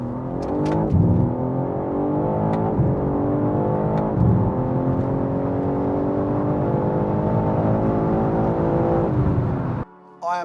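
A tuned stage 1 BMW G80 M3 pulls hard through the gears, its engine note climbing in long rising sweeps broken by brief shift dips, loud and close throughout before cutting out near the end.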